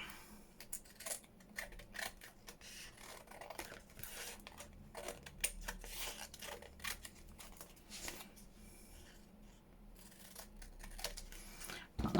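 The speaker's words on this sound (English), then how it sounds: "let's bring them in and do the big scissors." Large scissors snipping through paper scraps for junk journal belly bands, a quiet run of irregular crisp cuts and rustling close by.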